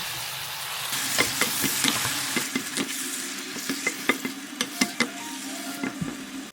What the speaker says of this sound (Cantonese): 我哋將啲番茄倒入去， 將啲番茄炒到軟身